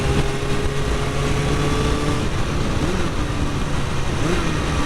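A Yamaha OW01 sport motorcycle engine roars steadily with a throaty intake growl, rising and dipping in pitch as the throttle changes, loud and close.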